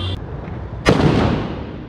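Large Diwali firecracker bomb going off outdoors, a single sharp loud bang with a rumbling tail that fades over a second, after a short high hiss and brief murmuring beforehand.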